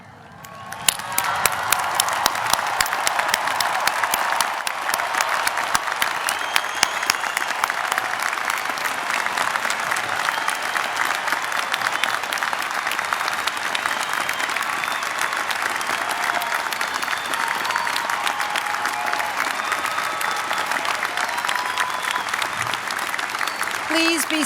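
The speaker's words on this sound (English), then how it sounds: "we all stand up, everyone, including the graduates, and applaud the class of" Sustained audience applause at a 2011 University of Washington commencement, honoring the graduating class; dense, steady clapping from a large crowd fills the hall continuously from start to finish with no break.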